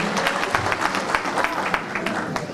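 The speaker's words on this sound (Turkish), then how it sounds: "E, rejide Abdullah Hocam, ona da bir alkış istiyorum" Crowd applauding at an evening folk dance show, a brief, loud patter of many hands clapping continuously at close range.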